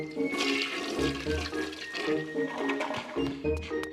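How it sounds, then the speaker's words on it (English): A toilet flushes in the Knights Academy restroom of a Zelda game, a steady rushing gurgle of water filling the whole clip with no talking over it. "if Link sits down, it even makes a flushing sound"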